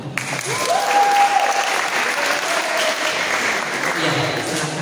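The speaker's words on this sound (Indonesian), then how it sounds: "Tepuk tangan dong." Audience at a student leadership training event clapping loudly and steadily, with some voices and a faint tonal sound mixed in.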